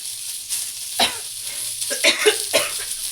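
Long-sliced onions fry in oil with a soft, close sizzle, and a few sharper stirring scrapes and clatters punctuate it.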